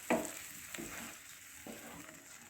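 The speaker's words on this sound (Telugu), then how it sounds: "పేస్ట్ వేసుకున్నాక ఒకసారి చక్కగా కలుపుకుందాం" A spice paste being stirred into golden fried onions in a pan for palak paneer curry: soft, quiet scraping and stirring strokes over a low, steady sizzle, with a sharper scrape near the start.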